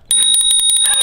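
A bike's bell trills in a fast, steady string of sharp metallic rings, loud and near, running throughout with no one speaking.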